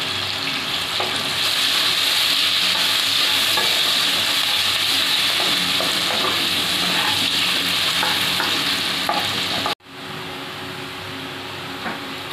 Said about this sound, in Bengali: পেঁয়াজটা ভাজা ভাজা হয়ে গেছে